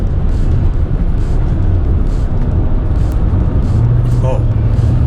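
An Acura 3.2 CL Type S with a 3.2-liter engine cruises on Angeles Crest, a steady loud engine drone and road rumble heard from inside the cabin while someone talks over it.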